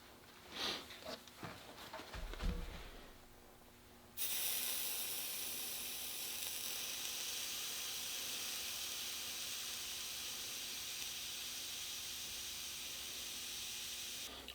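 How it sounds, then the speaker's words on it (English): Steam iron hisses steadily as its tip is pressed into a dent in wood, a loud continuous spray of steam running close-up after a few seconds of faint handling noises and light knocks. "I'm trying to concentrate that steam right in that area."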